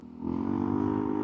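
A remapped Yamaha NMAX Turbo scooter engine climbs quickly from a low rumble into a loud, steady, buzzing drone that holds close and constant.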